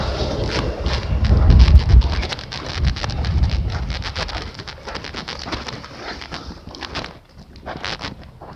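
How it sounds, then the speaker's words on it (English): Birds chirp and coo repeatedly in short bursts throughout, with wind rumbling and occasional footsteps in the background. "You hear something chirping."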